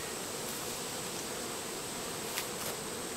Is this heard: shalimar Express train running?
no